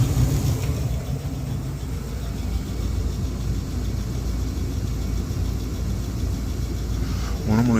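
A gas furnace with freshly cleaned burners firing up, giving a steady low roaring rumble with an even hum throughout, moderately loud and close, with no talk over it.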